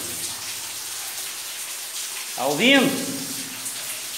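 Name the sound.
waterfall inside a cave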